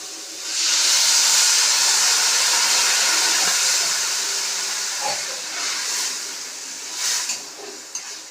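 Water poured onto spiced fried vegetables for a paneer curry hits the hot pan with a sudden loud, steamy hiss that swells and holds, then slowly fades into softer bubbling sizzle with a few small clinks.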